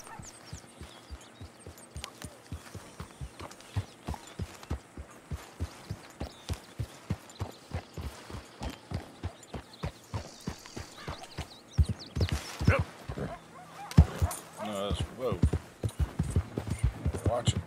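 Horse hooves clip-clop in a steady, regular rhythm while riding in Red Dead Redemption 2, close and clear throughout, with louder game sounds and a brief neigh toward the end.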